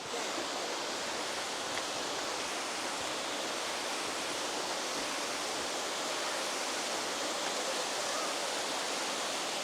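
A waterfall in Cornwall, UK, gives a steady, full roar of rushing water, constant and unbroken throughout with no voices.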